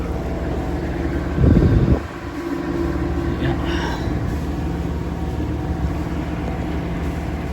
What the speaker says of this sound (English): And obviously we're motoring because there's not a lot of wind.